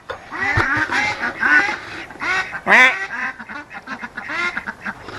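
Four small ducks kept in a duck hut on a homestead quack repeatedly and loudly in an uneven, overlapping chatter, close by and continuing throughout without any talking.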